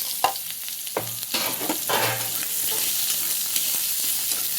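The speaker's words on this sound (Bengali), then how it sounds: "পেঁয়াজটাকে লাল লাল করে ভালো করে ভেজে নেব" Onions fry in a hot pan for a simple lentil-and-vegetable home meal, giving a steady close sizzle with a few stirring scrapes, and no voices.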